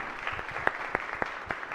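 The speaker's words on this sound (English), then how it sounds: "So let's give her a round of applause." Scattered clapping rises from visitors in a state Senate gallery, a handful of distinct, fairly sharp claps spaced irregularly over a soft room background, thin rather than a full ovation.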